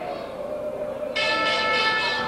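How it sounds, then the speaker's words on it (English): A ringside bell at a 1966 professional wrestling match between Chief White Owl and Steve Stanlee rings out suddenly partway through and keeps sounding loudly, its bright sustained tone covering the crowd noise. "And the bell sounds, it's curfew."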